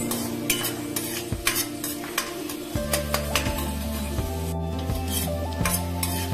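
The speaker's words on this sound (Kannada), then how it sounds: "ಇವಾಗ ಇದು ಈರುಳ್ಳಿನ ಸ್ವಲ್ಪ ಫ್ರೈ ಮಾಡ್ಕೊಳ್ಳೋಣ" Onions frying in a pan for a paneer ghee roast, with a spoon scraping and stirring in repeated strokes over a steady sizzle, close up with no talking.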